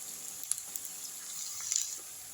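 Onions fry in a pan for a mushroom pepper fry, a faint steady sizzle with scattered small crackling pops.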